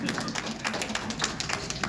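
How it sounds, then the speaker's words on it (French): An audience applauding: dense, continuous clapping from many hands, close and steady for the whole moment. "Applaudissez."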